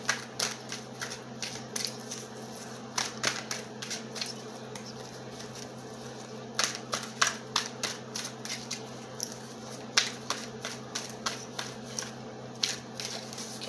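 Cards from a self-made oracle deck being shuffled, a steady run of crisp riffling flutters and soft slaps in repeated bursts, close and clear with no talking.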